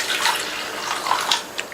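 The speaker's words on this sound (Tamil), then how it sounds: "பருப்பு முங்குற அளவுக்கு தண்ணி சேர்த்திருக்கேன்" Water splashes and gurgles close by as it is poured into a pan of soaked moong dal, a loud, uneven stream lasting under two seconds with no talking.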